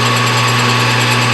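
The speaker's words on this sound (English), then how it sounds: "I got to put the drill in a long hole up to get it." A lathe drills a long hole into a workpiece, producing a loud, steady motorized whine with a constant hum throughout and no talking.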